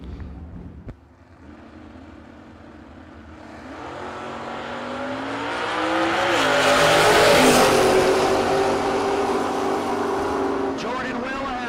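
Two drag race cars, a Chevrolet S10 and a Camaro, at a no-box drag racing event: engines idle low, then build into a loud, sustained roar that peaks and trails off near the end.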